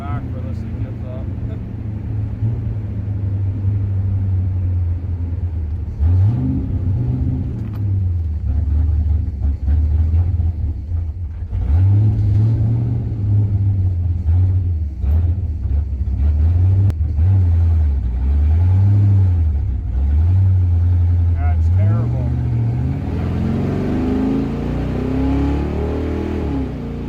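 A 1966 Oldsmobile 88 with a 425 big block V8 and a vacuum secondary carburetor accelerates repeatedly, its loud close engine note rising and falling in several revving sweeps over a steady rumble, with a voice speaking at times.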